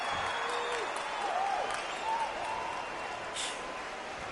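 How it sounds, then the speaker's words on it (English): A boxing arena crowd in the Undisputed video game roars and applauds in a dense, continuous wash, with scattered whistles rising above the din throughout. "For all these reasons, you can hear everybody in the crowd."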